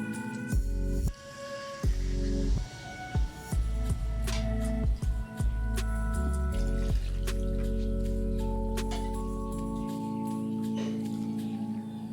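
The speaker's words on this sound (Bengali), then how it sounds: "সবজি কষানো হয়ে গেছে, এখন দিয়ে দেবো জল" Water poured into sautéed vegetables in a pan for a fish curry, a steady trickling splash over a continuous background with some clinks and knocks of utensils.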